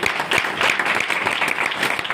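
Loud, dense applause from an audience at a motivational business gathering, sustained clapping that fills the room steadily for a couple of seconds with no voices over it.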